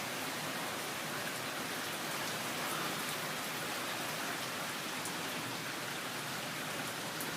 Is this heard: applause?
no